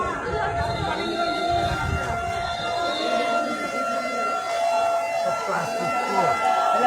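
A fire service vehicle siren wails steadily at a five-storey building fire in Mirpur Showrapara, Dhaka, the rising and falling tone persisting under crowd chatter and nearby voices.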